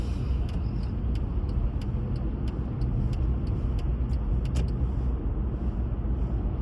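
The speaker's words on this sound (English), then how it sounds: "Traffic starting to build up here early in the morning." Early-morning road traffic passing by, a continuous low rumble of car engines and tyres with occasional sharp clicks, steady and fairly loud with no one speaking.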